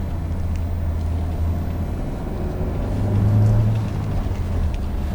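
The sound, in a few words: car engine noise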